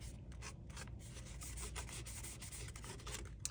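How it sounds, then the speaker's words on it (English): Dry, steady rubbing and brushing of fingers over glued paper rose petals on a large handmade paper flower, close and continuous for several seconds with no voices. "just kind of rubbing the sides, just making sure that they're sticking"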